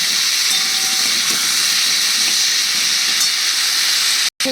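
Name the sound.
soybean frying in a little oil with salt and turmeric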